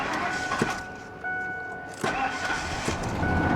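Diesel Ford F250 pickup with 322,000 miles, its starter cranking in uneven bursts as the engine struggles to fire, loud and close, with several distinct thumps and surges across the stretch.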